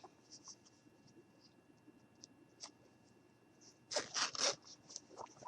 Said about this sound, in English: And I'm going to go ahead and zip it up.